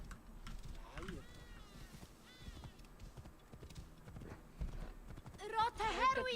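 Horse hooves clip-clop steadily in Assassin's Creed Origins, mixed with game ambience and a whinny, with a voice talking over them.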